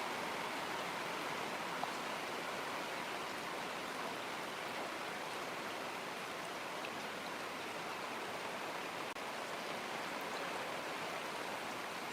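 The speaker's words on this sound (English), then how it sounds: "Can you hear the rain?" Steady, soft rain falls continuously, a fine even hiss with no breaks and no voices.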